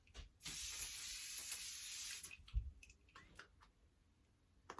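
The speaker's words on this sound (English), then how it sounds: "Middle of my day, if I'm feeling dry, I just spray myself." Hydrating face mist sprayed onto oneself, a sustained fine hissing spray of about two seconds, followed by faint clicks and handling noises.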